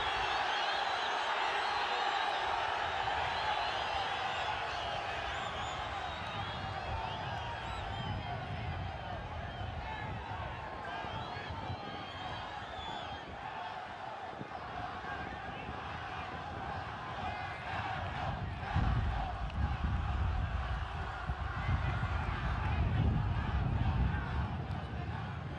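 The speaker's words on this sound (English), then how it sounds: "Crowd is growing restless" A football crowd at an El Salvador vs Martinique Concacaf Nations League match, a steady broad roar of massed voices filling the stadium, swelling a little louder near the end.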